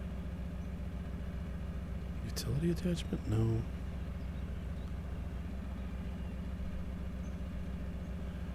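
A MAZ truck idles in the Spintires game with a steady low, rhythmic engine drone throughout, while a voice speaks briefly over it midway.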